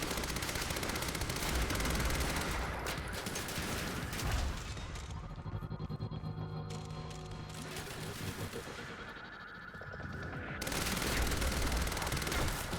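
Heavy gunfire in the shooter game Quantum Break, with dense rapid bursts and explosive crashes, easing into a quieter stretch midway before the firing picks up again.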